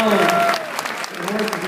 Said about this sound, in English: Give me an extra pick and man a round of applause, would you?